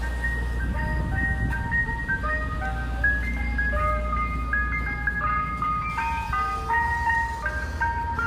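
An ice cream truck plays its tinkling music-box jingle, a steady repeating melody carried over the low rumble of the idling vehicle, fairly close and continuous throughout.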